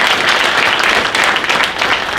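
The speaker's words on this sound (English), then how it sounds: "Clap it up." Dense, steady applause from an audience at an NRA gun panel Q&A, continuous broadband clapping filling the whole stretch at a fairly loud, even level with no voices.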